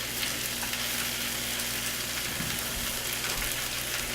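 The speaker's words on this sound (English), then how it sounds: "So you might hear those start to sizzle up a little bit." Food starting to sizzle in a frying pan during home meal prep, a steady soft crackling hiss throughout with a few faint clinks, alone and fairly quiet.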